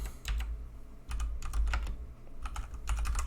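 Rapid, close clicking of keys on a computer keyboard as a sudo command is typed, coming in short uneven bursts with brief pauses.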